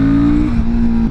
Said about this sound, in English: This bike has a sick sound for a 450, only 40 horsepower, standard exhaust, so agile.